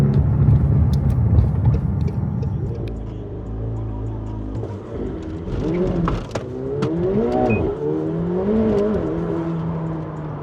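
A McLaren 720S sports car accelerates in launch mode, its engine pulling hard through rising and falling revs as it shifts gears, loud and close for about ten seconds.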